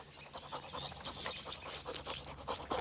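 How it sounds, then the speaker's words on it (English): A large dog pants in quick, rhythmic breaths, close and fairly clear, continuing for a few seconds with faint background noise. "You like my dog?"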